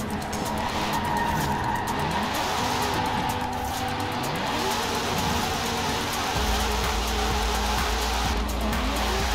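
Tires skid and squeal continuously as a Nissan S15 drifts in Forza Horizon 4, the sliding screech rising and falling over a loud, steady engine drone, with no speech.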